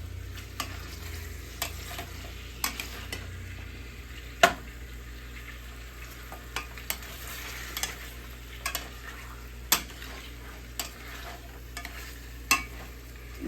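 Beef stew meat cooking in a pot for cowboy beef stew, a soft continuous sizzle with intermittent sharp clicks and scrapes of stirring, close and quiet, with no talking.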